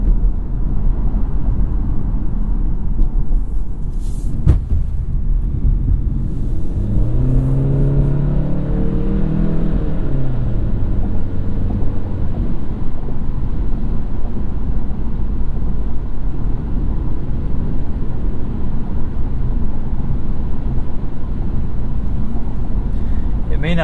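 A 2016 Honda Civic Touring with a CVT drones steadily while driving, its low engine hum constant from cabin, with a brief rising whir partway through.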